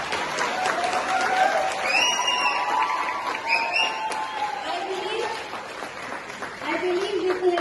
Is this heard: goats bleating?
no